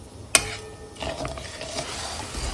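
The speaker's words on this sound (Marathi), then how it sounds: "हे आपण ढवळतो साखर थोडी, ही चांगली मिसळून पाक तयार व्हायला पाहिजे।" Sugar syrup being stirred in a pan over a gas flame, a soft continuous scraping and swishing close by, opening with a single sharp clink of the spoon against the pan.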